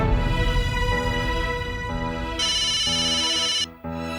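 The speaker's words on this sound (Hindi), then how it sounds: "भिड़े अंकल का फोन" A phone ringtone in a Hindi comedy scene, a loud electronic melody of repeating tones that shifts pitch in steps, briefly cutting out before resuming, with no talk over it.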